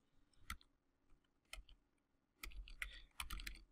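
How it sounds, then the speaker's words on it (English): Keys clack on a computer keyboard in short bursts: a few isolated taps, then a quicker run of typing, close and quiet. "I'm just going to start typing the word password"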